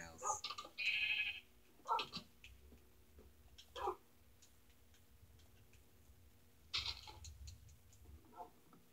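Sheep bleating in Minecraft, a few short faint bleats scattered among clicks and game noises at low volume.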